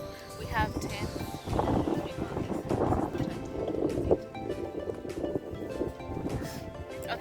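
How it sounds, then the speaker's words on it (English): Wind gusts and rain hit the microphone outdoors at a nature sanctuary, a rough, buffeting roar with scattered patters, while people talk nearby throughout. "It's so windy and it's raining at the same time"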